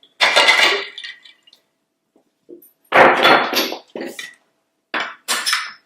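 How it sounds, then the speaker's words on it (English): Ice cubes dropping into a berry limeade drink made with lime juice, mint leaves and salt, heard as loud clattering bursts of knocks and rattles separated by short silences, close up. "Okay, I'm adding these ice cubes."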